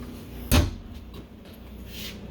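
A drawer on heavy-duty ball bearing glides slides and shuts with a single soft thud inside a 2024 Jayco Eagle HT 29DDB travel trailer, followed by faint rolling and rattling in a quiet room.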